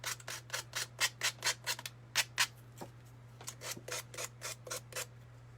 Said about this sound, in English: this one has to have extra sanding because I did both sides